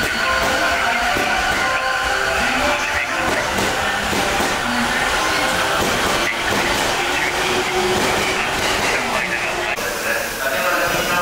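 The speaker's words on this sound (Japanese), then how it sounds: "臨時特急さわら秋祭り号が通過。" Temporary limited express train passing through Ochanomizu station during improvement works, a loud continuous rumble and rush throughout, with wheel clatter and station noise.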